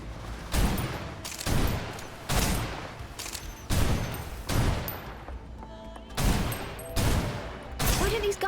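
Gunfire in the Snowbreak video game: repeated bursts of loud, close shots in uneven clusters of about one per second, with brief gaps between volleys.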